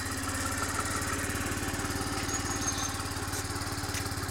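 A new scooter engine idling steadily nearby, a low even putter with a fast regular pulse, very quiet and unchanging throughout.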